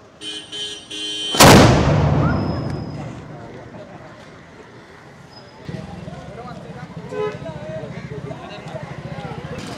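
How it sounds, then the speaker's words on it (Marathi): A village cannon is fired near Achara Titha during the traditional village-emptying festival, a single loud blast that booms and rumbles away over several seconds. Quiet voices and movement follow afterward, with people talking. "ही तोफ जी तुम्ही आता ऐकली, कशी वाटली?"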